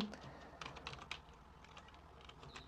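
Python code typed on a computer keyboard: a steady patter of quiet key clicks with a few sharper taps, close by and alone, with no voices.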